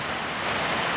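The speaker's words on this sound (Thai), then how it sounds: "ครับบรรยากาศฝนตกครับเพื่อน" Steady rain pours down around a homely kitchen during a power outage, a dense, even hiss of drops filling the whole second without pause.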